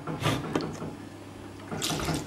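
Hot water from a tap running into a Vax Floormate hard floor cleaner, uneven bursts of splashing and trickling at moderate volume, close by.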